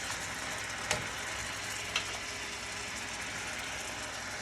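Minced shallot and garlic sizzle steadily in a hot pan, a loud continuous hiss broken by two brief clinks of a utensil.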